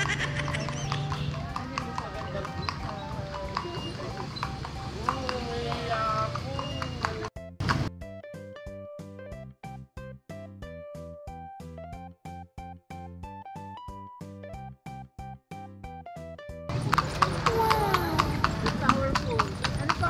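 Horse hooves clip-clop in a steady rhythm while pulling a carriage on a garden outing in Ilocos, with music playing alongside and people chatting before and after.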